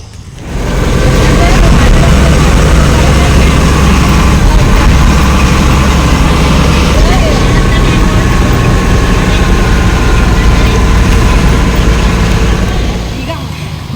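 Traffic on a main road, wet with puddles after recent rain, makes a loud, continuous low rumble of engines close by. It holds steady for the whole stretch, then fades slightly at the end.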